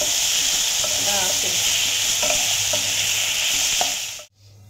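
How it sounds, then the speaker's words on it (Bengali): Potatoes frying in a pan with salt and turmeric powder, a loud continuous sizzle with scattered spatula scrapes and clinks, close up and unbroken until it cuts off abruptly near the end. "দিয়ে আমি আলুটাকে ভালো করে ভেজে নেব যতক্ষণ গোল্ডেন ব্রাউন কালার না আসে।"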